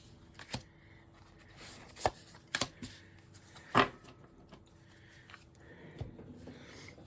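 Tarot cards being shuffled, heard as a few soft, scattered riffles and taps, faint and intermittent against a quiet room.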